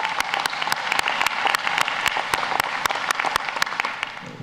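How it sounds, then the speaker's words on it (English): Loud, sustained applause from a large ceremony audience welcoming a medical school class at a white coat ceremony, dense clapping with a few sharper claps standing out, steady throughout. "A loud round of applause."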